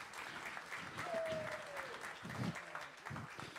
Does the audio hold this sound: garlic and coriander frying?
no